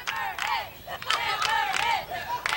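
Spectators at an amateur softball game yell and whoop in a loud, continuous burst, with shouting voices rising and falling and a little clapping mixed in, close to the microphone.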